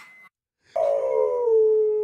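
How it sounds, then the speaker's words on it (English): A brief high yelp, a short pause, then a long drawn-out dog howl that slowly falls in pitch, close and clear. "I can hear the dog barking in the howls"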